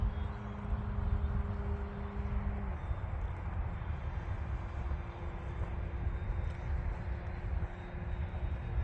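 A Seagull Models 68-inch Super Decathlon RC plane drones steadily overhead in a crosswind, its engine note dropping after a few seconds as the throttle eases, then holding an even buzz at moderate distance.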